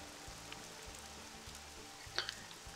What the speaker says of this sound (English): Ooh, a bit of rain.